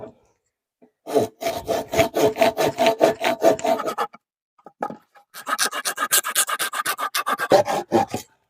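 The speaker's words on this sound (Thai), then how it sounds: "เลื่อยตัดกิ่งไม้ ลองดู" A Crown 14-inch pruning saw rasps rhythmically through a tree branch in quick back-and-forth strokes, pauses briefly, then resumes another fast run of cutting strokes.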